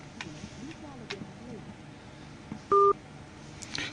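Telephone keypad dialing tones on a phone call that reaches a busy number, a few short beeps with one clear, loud two-tone beep, over faint background noise and quiet voices.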